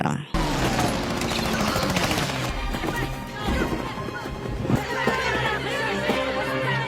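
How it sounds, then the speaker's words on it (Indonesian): Film gunfire during an attack on a prison train: dense, loud bursts of shots and crashing impacts, mixed with chaotic action sounds and voices throughout. "melepaskan tembakan"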